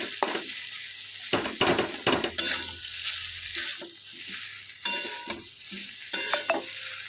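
Banana flower (mocha) being stirred in a frying pan, with a spatula scraping and knocking against the pan in irregular strokes over a soft steady sizzle, close by with no talking.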